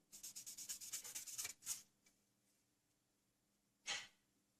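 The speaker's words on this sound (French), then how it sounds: "une petite finition P2000 avec la mousse pour faire propre" A P2000 abrasive foam pad rubs over the body of a 1/24 Fujimi McLaren F1 GTR Long Tail model kit in a quick series of soft, rhythmic scratchy strokes, followed by a couple of isolated brushes, close and quiet.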